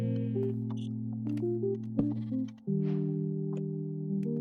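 Sheep bleating in Minecraft, a few short wavering game bleats over steady background music with clicking sounds.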